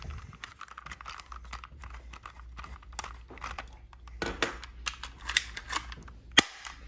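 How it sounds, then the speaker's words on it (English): A Walther PPQ airsoft spring pistol fitted with a suppressor gives soft, dull clicks and handling taps, ending in one sharper, muffled snap near the end, all fairly close and without talk. "that's the noise with the suppressor."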